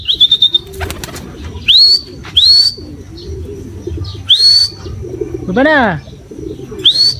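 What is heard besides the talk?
pigeons cooing and flapping wings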